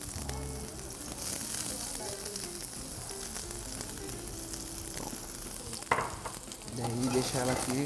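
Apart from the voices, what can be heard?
onion sizzling in hot olive oil in a frying pan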